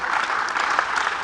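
Brief burst of audience applause for teacher educators at an education event, an even wash of clapping from a crowd with no voices over it.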